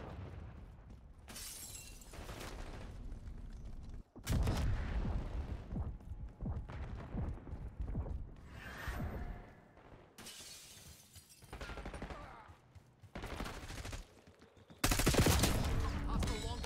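Loud bursts of gunfire and a heavy frag grenade blast in a Black Ops 6 multiplayer match, with sharp shattering impacts and rapid shots clustered in loud bands, trailing into quieter stretches between volleys.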